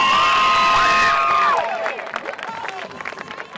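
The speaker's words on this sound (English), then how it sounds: "I want you to give her a world championship round of applause." Rodeo crowd at the 2023 Wellington Pro Rodeo cheers and applauds a barrel racer, with whoops and shouts layered over clapping and a long, sustained tone at first, then fading to looser scattered applause and voices.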